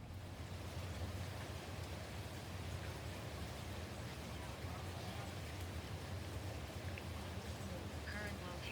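Heavy rain from a severe thunderstorm in Columbus pours in a dense, steady hiss, with strong winds adding a low rushing roar, continuous and fairly close throughout.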